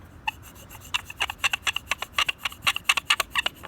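Sweets kendama finished in cushion clear paint being played, its wooden ball repeatedly knocking against the cup and spike in quick uneven clacks, close and alone, growing busier over a few seconds.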